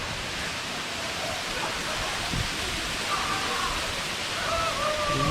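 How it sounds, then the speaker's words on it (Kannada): Ermaayi Falls, a waterfall reached on a ride from Bengaluru to Dharmasthala, roars as a loud, steady rushing wash, with faint voices underneath. "ಇಲ್ಲೊಂದು ಫಾಲ್ಸ್."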